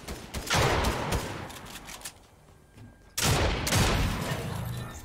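Rapid bursts of gunfire in the Fortnite video game, a loud close volley, then a short lull and a second heavy burst of shots.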